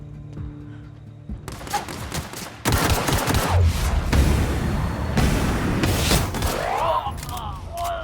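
Gunfire in the video game The Outer Worlds, a dense burst of loud shots and blasts after a quieter stretch, with mechanical clanks mixed in.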